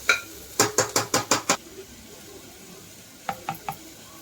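Pasta ingredients being sautéed in a pressure cooker: a quick run of six sharp spoon scrapes and knocks against the pot, then quiet, then three softer stirring knocks.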